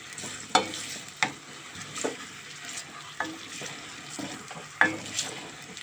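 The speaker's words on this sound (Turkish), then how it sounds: "Şimdi bir soğanlarımızı güzelce kavuruyoruz." Chopped onion frying in vegetable oil for a mushroom bulamaç, with a quiet, soft sizzle broken by a series of sharp spoon scrapes and stirring knocks at uneven intervals.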